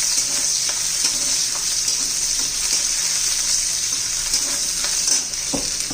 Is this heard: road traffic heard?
no